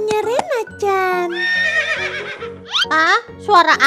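A bright, cartoonish toy horse whinny rings out in several rising and falling bursts, mixed with short tones and a child's chatter.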